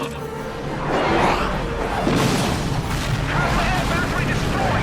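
Air battery blowing up in Final Fantasy XII: The Zodiac Age, a heavy, sustained explosive roar that swells after the first second and keeps rumbling densely to the end, loud and close.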